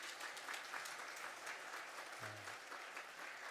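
A church congregation applauding during a Sunday service: steady, dense clapping from many people, continuous and fairly distant, with a brief low hum partway through.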